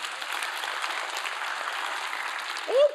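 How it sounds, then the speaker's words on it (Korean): A church congregation claps together during a Daechi Full Gospel Church sermon, a dense and steady burst of applause that holds evenly for about three seconds, with a brief higher sound near the end. "우리 하나님께 영광의 박수 드립니다"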